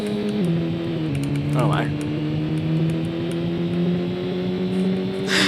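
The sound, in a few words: race cars in racing mini game of video game Shortventure 3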